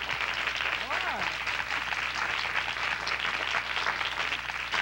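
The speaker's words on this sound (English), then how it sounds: "Listen to that applause." A studio audience at a TV talk show applauding a guest doctor, a dense, steady wash of clapping that fills the whole stretch, with a voice talking over it.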